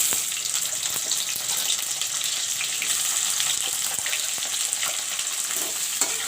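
Onions frying in hot mustard oil, a loud continuous hissing sizzle with a crackling texture, steady throughout with occasional faint stirring clicks.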